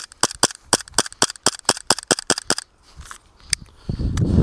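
A VFC Walther PDP airsoft pistol with snappy blowback firing a rapid string of about fifteen sharp, close cracks, followed by a short pause, a lone shot and then rustling handling noise.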